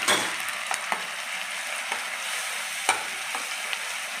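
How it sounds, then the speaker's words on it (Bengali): Garlic, ginger and onion paste sautés in oil in a pan, a soft steady sizzle broken by several distinct spatula scrapes and taps, the clearest one near the end; no voices. "যতক্ষণ না তেল ছাড়বে ততক্ষণ একটু কষতে থাকবে।"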